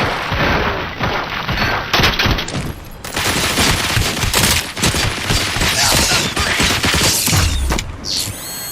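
Dense, loud automatic gunfire rattles almost continuously through RoboCop: Rogue City combat, with mechanical clanks and booming impacts layered in.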